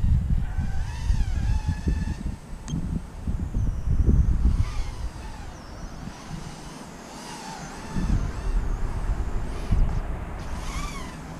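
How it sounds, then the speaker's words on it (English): Gusty wind buffets the microphone in heavy low rumbling bursts, while a thin high whine of a BQE Pixel micro drone's small motors wavers above it. "Oh, it's windy."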